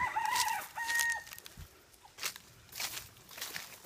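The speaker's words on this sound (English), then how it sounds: "These are the jungle fowl." Jungle fowl on a farm give a crowing call followed by scattered clucks and rustling, fairly faint and at a moderate distance.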